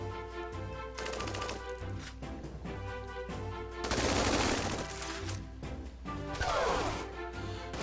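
Gunfire in the strategy video game Tiny Metal, rapid machine-gun bursts and crashing impacts rolling over a steady game soundtrack, with two louder volleys midway and near the end.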